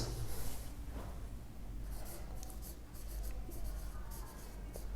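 Pen or pencil scratching across paper in a classroom setting, a steady close scraping stroke with short repeated bursts, continuous for several seconds, with faint speech in the background.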